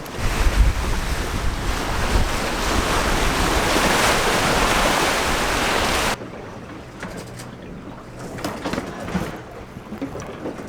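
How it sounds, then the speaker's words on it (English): Strong following wind roars across the microphone while waves rush past a sailboat crossing the English Channel, then the gusts drop abruptly, leaving quieter water sloshing against the hull. "Perfect wind since yesterday, straight from behind."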